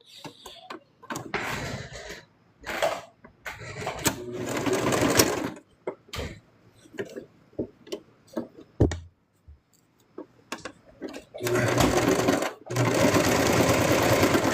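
A sewing machine stitches plush pieces together in several separate bursts of whirring, with quiet gaps and small clicks between runs and a longer steady run near the end.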